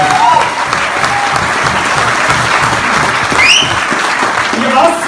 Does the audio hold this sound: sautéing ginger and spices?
no